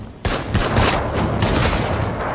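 A sudden burst of rapid gunfire in a war film battle scene, loud and dense, continuing as a sustained volley with sharp cracks layered over a low rumble.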